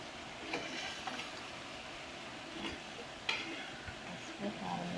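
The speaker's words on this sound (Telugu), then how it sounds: "ముక్కలు పట్టేలా కలుపుకోవాలి" Goat head mutton pieces being stirred with turmeric and chili in a cooker, giving faint scraping and soft sizzling with a few light metallic clicks, quiet and steady.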